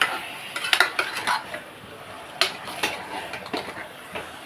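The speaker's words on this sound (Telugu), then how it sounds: "కొంతసేపు దాన్ని బాగా కలుపుకుని చికెన్ వేసేస్తున్నానండి" Chicken being added and stirred into a pot with onion and ginger-garlic paste for farm kodi curry: quick close metal scrapes and clinks of a spoon against the pot, irregular and busy, over a light sizzle.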